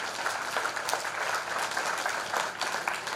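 Steady applause from a school audience at a Teachers Day celebration, honoring a teacher, dense clapping filling the whole stretch at moderate loudness with no voices over it.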